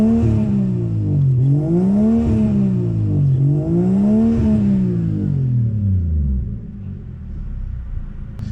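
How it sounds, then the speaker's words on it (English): A car engine is revved to bring it up to temperature and open the thermostat; two strong rising-and-falling revs swell and ease, then the engine drops back to a steady idle rumble. "So I had to rev it so that I get the vehicle to temperature where it opens the thermostat"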